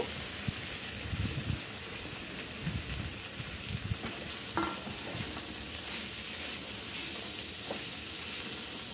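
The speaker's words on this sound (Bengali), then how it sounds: "আমি এখন এই জালি কুমড়াটা দিয়ে দেব।" Ash gourd pieces go into a pan of fried spice masala and are stirred, producing a steady, moderate sizzle with scraping and rustling throughout, no talking.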